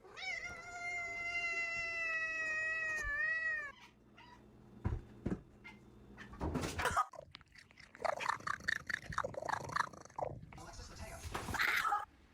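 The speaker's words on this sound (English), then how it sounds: "This cat sounds exactly like a squeaky toy." A cat gives a long, high, squeaky meow that sounds like a squeaky toy, followed by shorter chirps and faint purring and chewing noises, with a person talking quietly in between.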